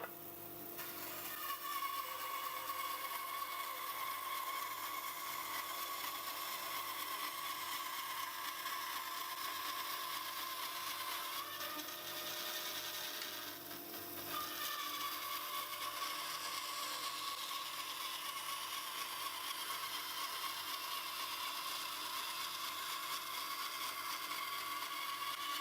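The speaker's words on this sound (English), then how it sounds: "you see how I cut the coasters down on the bandsaw" A bandsaw cuts timber coasters with a steady, continuous whining hum that dips briefly midway as a cut ends, then runs on evenly. It is close and alone, with no speech.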